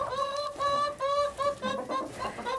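Backyard chickens leaving their coop, several soft repeated clucks and murmuring calls heard close by in quick succession with no talk.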